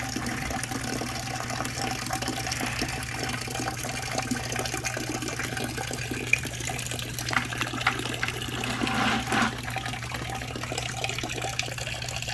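Antifreeze drains from the engine of a 1969 Corvette 427 in a steady, splashing stream that continues the whole time, with a low constant hum in the background.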